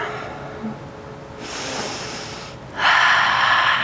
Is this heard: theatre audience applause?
no